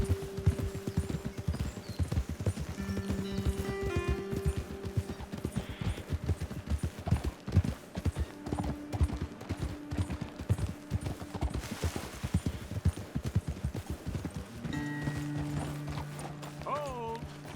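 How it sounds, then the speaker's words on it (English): Horse hooves clip-clop steadily in the Western video game Red Dead Redemption 2, with game music, faint mechanical sounds and voices talking over the riding. "Best leave the horses back a bit."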